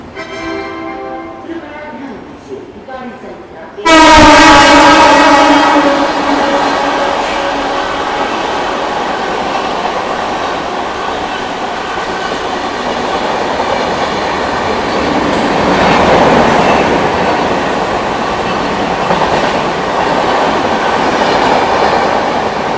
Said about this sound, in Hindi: यह अपनी महाबोधि एक्सप्रेस निकल गई भैया, महाबोधि एक्सप्रेस अपने सफ़र पर गया के लिए।